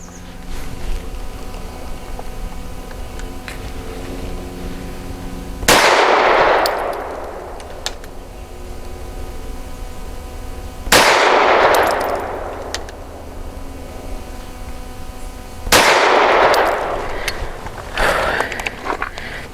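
A Walther PDP 5-inch Compact pistol fires Wolf 115 grain steel-case rounds, three sharp, loud shots spaced about five seconds apart, each ringing out with a bright decaying tail over a faint background hum.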